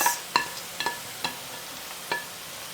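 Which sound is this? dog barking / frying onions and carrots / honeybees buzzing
frying onions and carrots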